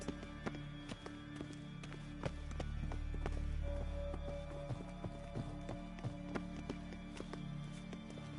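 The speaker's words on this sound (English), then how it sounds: "Footsteps." Footsteps in The Witcher 3 video game, a run of regular hollow clip-clop taps over a low ambient hum and soft background music.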